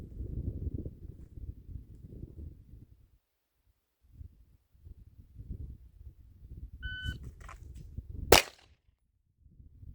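A Springfield XDM Elite handgun drawn from appendix carry fires a single sharp, loud shot right after electronic timer beeps. Low wind and clothing rustle fill the quieter stretches before and after.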